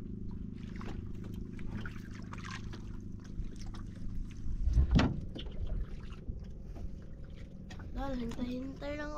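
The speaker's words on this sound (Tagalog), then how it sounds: "Parating yung bangka Joy ah." A small boat approaches across open water near a fishing spot, its motor rising and swelling briefly amid wind and lapping water, while people talk nearby.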